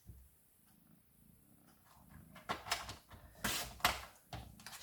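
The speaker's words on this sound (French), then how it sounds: "Alors il ronronne." A cat purrs faintly and close, a soft low rumble under intermittent louder scraping and handling noises.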